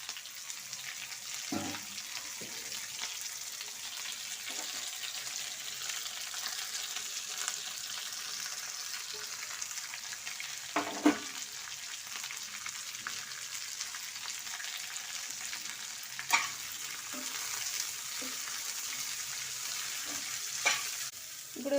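Shredded cabbage frying in a pan gives a soft, steady sizzle, with occasional scrapes and clicks of a spatula stirring, faint and close, no voices.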